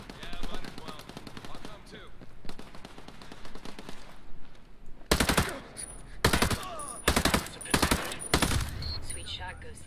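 Gunfire in the tactical shooter Ghost Recon Breakpoint: bursts of loud automatic fire in the second half, several sharp volleys separated by short gaps, following stretches of radio-style voices talking over background noise.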